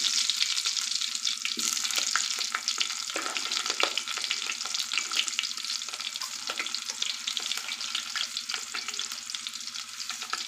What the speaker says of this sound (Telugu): ఆయిల్ అనేది హీట్ ఎక్కింది కొద్దిగా జీలకర్ర మొదటిగా మనం ఉల్లిపాయలు వేస్తున్నాం